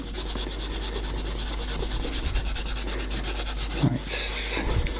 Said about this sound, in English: let's just rub out some of these guidelines here